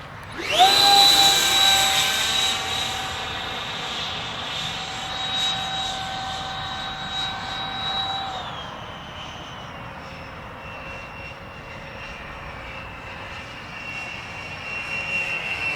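A small electric ducted-fan model jet, the FF 117V2, flies overhead with a loud whining turbine-like scream that holds steady, then drops in pitch as the throttle eases and fades to a softer whir.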